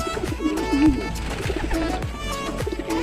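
Several racing pigeons coo close by in soft, overlapping throaty calls, with a few wing flutters and rustles in the background.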